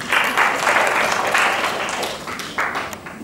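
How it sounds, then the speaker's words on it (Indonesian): An audience at an Indonesian government office event claps together in a steady, moderately loud round of applause, with a few swells in intensity as it continues. "ayo kita tepuk tangan"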